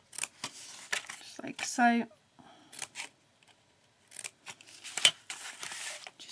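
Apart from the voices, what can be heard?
scissors cutting card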